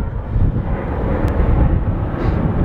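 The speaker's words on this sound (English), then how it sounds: "I'm gonna wait for this plane." A fixed-wing airplane passes overhead above a rooftop, a loud, steady broadband roar filling the whole stretch without pause, with no voices over it.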